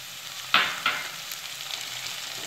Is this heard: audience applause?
no